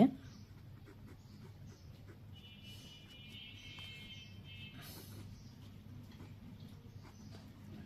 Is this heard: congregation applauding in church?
no